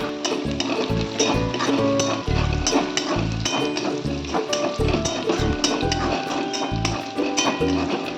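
Crushed garlic cloves sizzle in a hot pan while chilli chicken cooks, with repeated loud clacks of a spoon stirring against the metal over constant frying.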